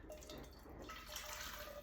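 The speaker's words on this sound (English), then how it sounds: "Right, that's got a bit of hot water in it." Hot water poured from a kettle into a cooking pot while braising beef, a steady watery trickle and splash heard close and fairly quiet throughout.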